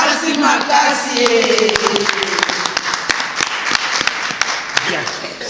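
An audience at a broadcast event claps and cheers continuously, with a dense spread of hand claps and crowd voices, and people talk over the applause.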